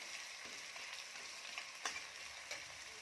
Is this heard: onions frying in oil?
yes